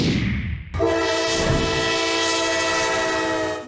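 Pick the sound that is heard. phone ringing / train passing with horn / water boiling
train passing with horn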